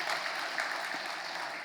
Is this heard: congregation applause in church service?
yes